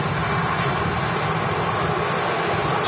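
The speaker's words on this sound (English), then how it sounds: "And another easyJet on the roll." An easyJet Airbus A320 rolls for takeoff at Manchester Airport toward Geneva, a loud, steady roar of jet engines filling every moment without a break.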